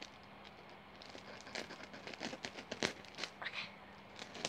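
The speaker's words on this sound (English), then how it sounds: "Oh, fresh scissor noise." Scissors snip and crinkle through a nail kit's plastic packaging, a faint, irregular run of sharp crackles and cuts at close range in a quiet room.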